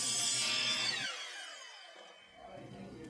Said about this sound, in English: Using a miter saw, now trim the treads to our line.